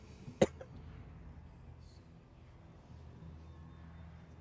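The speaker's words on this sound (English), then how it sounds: "I really can't laugh without coughing" One sharp, short cough comes close to the microphone near the start, followed by quiet room tone.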